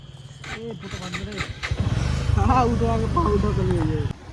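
A motorcycle engine starts up and runs with a steady, close mid-pitched rumble as riders set off, with people talking over it throughout.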